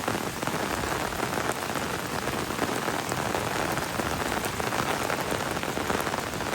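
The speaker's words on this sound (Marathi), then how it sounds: "यहाँ पे केरले वाटरफॉल के यहाँ बहुत ज़्यादा बारिश आ रही है" Heavy rain pours steadily at Kerala waterfall on the Amba Ghat road, a dense, continuous hiss of drops hitting surfaces that stays loud and unbroken throughout, with no voices.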